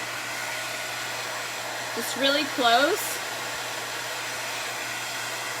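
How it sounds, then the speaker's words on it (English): A hair dryer blows with a steady, close whooshing roar throughout, heating stickers to soften their glue, and a person briefly speaks over it midway. "use your hair dryer to heat the stickers on the back"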